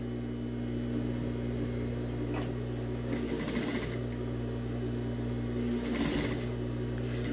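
Sewing machine runs steadily while stitching shut the opening of a small pet bag, with a constant motor hum and two short bursts of faster stitching, close and alone.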